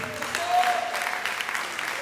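Audience applause at a reggae awards ceremony, a steady, moderately loud wash of clapping filling the room, with some voices mixed in.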